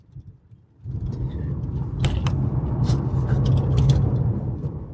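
Car driving along a highway near Longyearbyen, Svalbard, heard from inside as a steady low road rumble that starts after a quiet first second and holds, with a few faint clicks and rattles on top.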